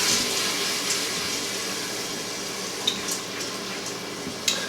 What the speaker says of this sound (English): I'm going to go ahead and add in our white wine